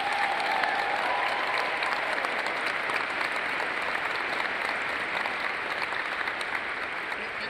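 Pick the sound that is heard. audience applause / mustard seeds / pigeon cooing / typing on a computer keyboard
audience applause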